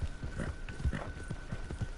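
A horse's hooves clip-clop steadily at a trot in a video game. The hoofbeats are close and rhythmic and sound alone, with no talk over them.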